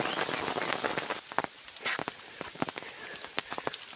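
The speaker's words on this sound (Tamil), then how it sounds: "இன்றைக்கி மத்தியானமே மழை வந்துருச்சு." Afternoon rain falls near the Kerala–Tamil Nadu border, a dense close patter of drops on a surface with scattered sharper taps, steady and fairly loud with no talking.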